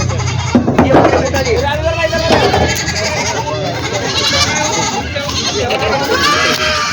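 Goats bleat repeatedly at a busy livestock market in Vasmat amid crowd noise, and someone talks over the calls.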